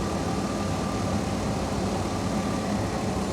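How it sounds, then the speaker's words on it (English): A car engine runs roughly during an EGR valve test, its steady, close engine noise faltering and stumbling throughout, with no voices over it. "Listen to the engine stumbling."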